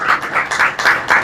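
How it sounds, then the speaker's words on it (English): Audience at an outdoor ceremony for farmers receiving land leases in eastern St. Thomas, clapping in a quick, loud burst of applause with a pulsing rhythm, heard close. "So I want to give your member of parliament a big round of applause,"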